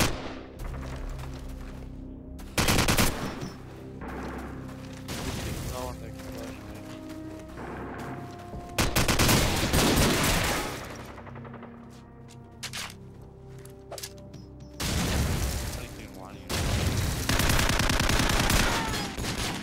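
Bursts of gunfire in a one-on-one video game shootout, including Desert Eagle pistol shots, cracking out near and loud in separate volleys under steady excited talk.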